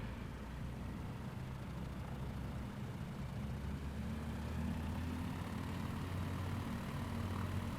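A light aircraft in Microsoft Flight Simulator runs its engine at full power while holding on a slope, making a steady, loud, unbroken drone with a low hum underneath and no talking.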